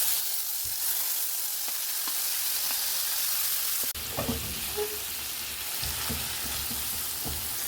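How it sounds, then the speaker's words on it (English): Marinated paneer dropped into a little hot oil in a pan, sizzling steadily and loudly up close, with a few scraping stirs and bubbling pops after it goes in. "Add in the marinated paneer."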